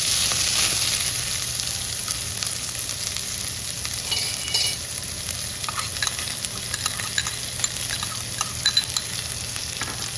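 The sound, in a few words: onions added to frying peanuts in a pan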